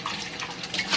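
Cold tap water runs steadily into a sink over a hot cooking pot, a continuous close splashing hiss with no voices.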